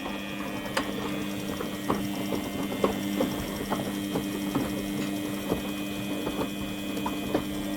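Traditional-style washing machine running in Scotland with its back and top covers off, giving a steady mechanical hum with regular ticking, ratchet-like clicks, heard close and alone.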